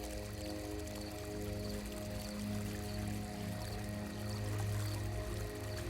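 Gentle water from a fountain flows and trickles steadily at the centre of a calm space, a soft continuous splashing wash heard close and alone, with no pauses.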